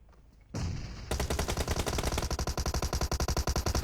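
Rapid automatic gunfire from a PUBG Mobile fight bursts in after a short quiet lead-in, then continues as a dense, loud, rhythmic stream of shots with no pauses or voices.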